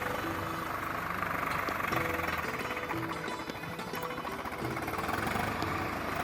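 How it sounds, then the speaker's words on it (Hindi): A tractor engine pulling a plough across a farm field in India, turning in circles while tilling, gives a steady mechanical chugging drone with rapid knocking pulses at a constant moderate level, heard alone. "ट्रैक्टर जो है गोल गोल घूम के भी खेती की जुताई"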